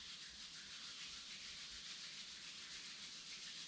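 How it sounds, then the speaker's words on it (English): Close, steady rubbing of two palms together during a yoga session, a continuous soft friction hiss lasting several seconds with no talking. "Rub your palms."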